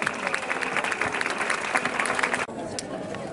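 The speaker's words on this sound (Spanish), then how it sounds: "Un aplauso, por favor" Villagers at a town fiesta in La Gineta, with a crowd clapping steadily at mid-distance and a murmur of voices mixed in, before the applause cuts off abruptly into quieter crowd noise.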